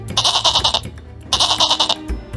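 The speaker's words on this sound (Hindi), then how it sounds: "बकरी वहां से भागने लगी" A pregnant goat bleats loudly and close by, two bursts of rapid wavering cries separated by a short pause.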